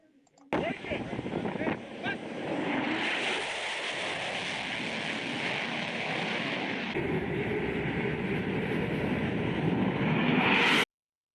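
F-14 Tomcat jet flies past with a sudden loud onset, then a sustained roaring rush that shifts in tone midway and cuts off abruptly at the end.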